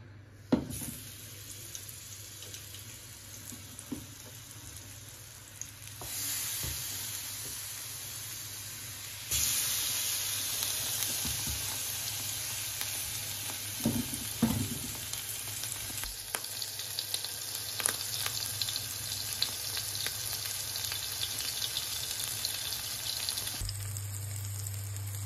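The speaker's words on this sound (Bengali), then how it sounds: "তেলটা গরম হয়ে গেছে, এখন মাছগুলো দিয়ে দিলাম আমি।" Hilsa fish pieces fry in hot oil with a steady, close sizzle that swells louder partway through and holds a bright crackling hiss to the end, with a few faint clinks.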